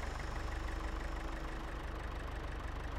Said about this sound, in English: hook this up to the tractor and see what it does to the fields